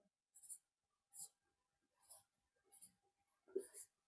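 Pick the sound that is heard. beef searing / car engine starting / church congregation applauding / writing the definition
writing the definition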